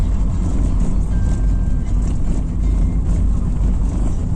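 A car drives over a cobblestone road, giving a loud, continuous low rumble and rattle of road and cabin noise with no voices.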